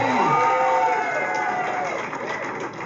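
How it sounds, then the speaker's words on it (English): An audience at a live comedy show cheers, whoops and claps in a loud burst that fades over a few seconds. "Give a round of applause for yourself, please."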